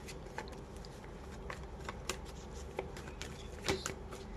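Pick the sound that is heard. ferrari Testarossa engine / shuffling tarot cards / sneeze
shuffling tarot cards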